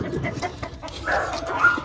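Hens cluck nearby in a short, busy burst of clucks lasting under two seconds, fairly loud and close.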